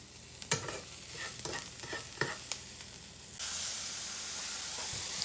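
Onions and tomatoes fry in a pan, a steady sizzle with a few light spoon knocks early on, then the hiss grows broader and louder for the last couple of seconds.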